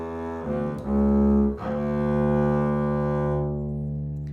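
Bowed upright bass plays a slow bluegrass melody on open strings, sustained warm low notes with a couple of note changes, close and alone.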